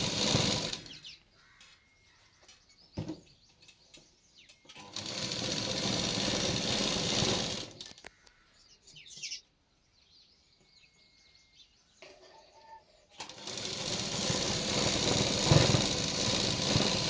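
Sewing machine stitching a plain blouse, running in several long continuous bursts of steady whirring with quiet pauses between them, close and fairly loud.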